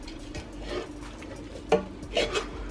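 Chicken biryani and fried onions are folded together in a pot, giving soft scraping and stirring strokes in an uneven rhythm, with a few sharper clinks of the spoon against the pan, close and fairly quiet.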